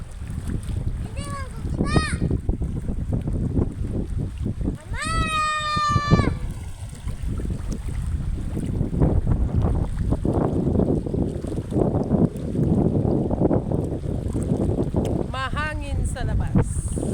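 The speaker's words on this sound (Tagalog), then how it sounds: "Mahangin sa labas." Wind gusts steadily outdoors by the sea, a continuous rushing over the microphone, with children's voices, whistle-like calls and people talking throughout.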